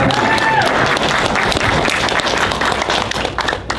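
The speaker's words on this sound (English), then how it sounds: "Let's have a big round of applause for him." Loud, sustained audience applause at a Q&A event with Jack O'Halloran, dense clapping from a large crowd that fills the whole stretch, with a few faint cheers mixed in.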